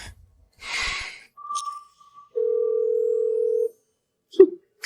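An outgoing phone call rings with no answer: a short high beep, then one long, steady ringback tone at moderate level, followed by a brief soft click near the end.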